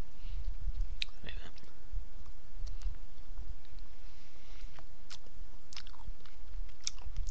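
Close, crunchy chewing of a bite of Reese's Fast Break candy bar with chocolate, peanut butter and nougat, steady mouth sounds with crisp bites and clicks throughout.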